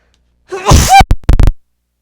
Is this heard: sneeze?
yes